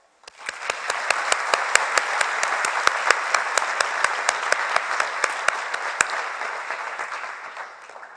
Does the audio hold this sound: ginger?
no